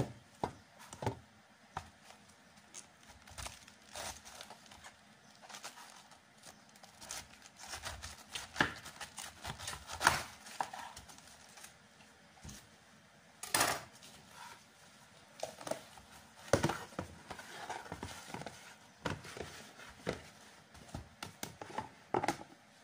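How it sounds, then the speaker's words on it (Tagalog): A knife cuts through a large cabbage in a quiet kitchen, giving faint, irregular crunchy chops and taps spread over a long stretch with pauses between strokes. "Dahil sobrang laki ng repolyo, hatiin muna natin siya."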